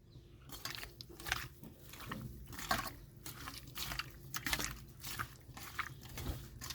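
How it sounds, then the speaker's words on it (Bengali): Lote fish being hand-mixed with salt and turmeric in a bowl, giving a close series of soft, wet squelching and slapping pulses in an uneven rhythm with no talk. "এখন নুন হলুদটা মেখে নেব।"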